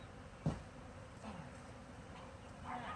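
A honey bee swarm hums softly and continuously during a hive removal, a faint, even insect drone with one brief bump near the start.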